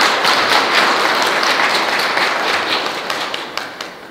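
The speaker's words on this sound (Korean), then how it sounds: "큰 박수 한번 부탁드리겠습니다" Applause from the audience at a 2020 Eunpyeong volunteer day ceremony, a dense wash of many hands clapping that stays loud and steady, then thins slightly toward the end.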